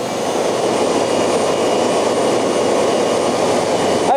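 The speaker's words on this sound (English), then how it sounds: "here we are alongside the 45 megawatt gas turbine referred to earlier" Large 45 megawatt gas turbine running nearby, a loud, constant broadband roar with a steady, unbroken drone and no pauses.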